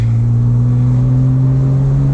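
Porsche 987 Boxster S being driven on Cotswolds roads at sunset: a loud, steady engine drone heard from inside the car, holding an even pitch throughout with no speech.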